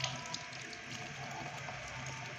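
Food being put into a pot of water in a home kitchen, a faint steady wash of running, sloshing water that carries on throughout with a small splash at the start, no talk.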